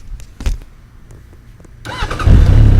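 A Suzuki Bandit GSF 1200 motorcycle is started nearby: a few clicks and a whirring starter crank, then the engine catches into a loud, rough rumbling idle through an aftermarket exhaust.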